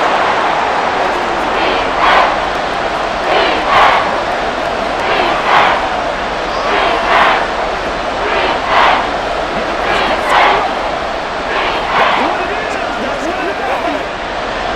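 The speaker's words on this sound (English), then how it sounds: "Well, this crowd into it now." A stadium crowd roars steadily through a simulated San Francisco 49ers vs Seattle Seahawks football game in Madden NFL 24, a loud, continuous wash of cheering with swelling bursts, while a commentator talks over it.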